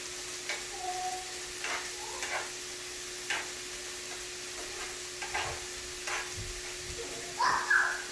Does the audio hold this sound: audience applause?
no